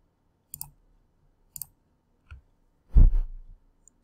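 Two small, crisp computer mouse clicks about a second apart as the update button is pressed, followed by a soft thump and a louder, longer rustling knock, all faint and isolated against silence.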